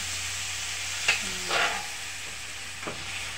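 Boiled pork leg broth poured into pancit in a hot pan, giving bursts of sizzling and steam with short stirring scrapes, close and clear, no talk.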